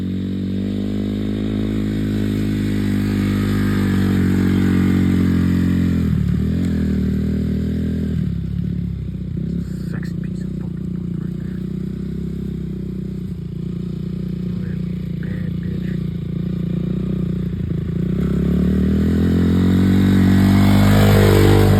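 A dirt bike engine fitted with an aftermarket FMM exhaust, revving loudly nearby with rising and falling pitch, a steady idle between blips and a final climbing rev.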